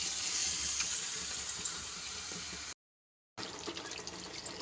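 Boiled chicken pieces dropped into hot oil in a kalai pan while making dum biryani, a loud continuous hissing sizzle that pauses for a moment of silence and then resumes just as strongly.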